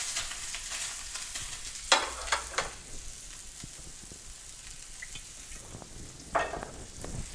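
Pork fillet fries in olive oil in a frying pan, a faint low hiss broken by a few sharp utensil scrapes and clinks.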